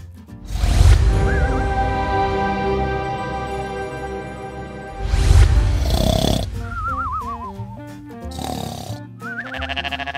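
A napping gorilla snores in long, loud rasping breaths, two big inhale-exhale cycles several seconds apart, followed by quieter squeaky, wavering calls near the end.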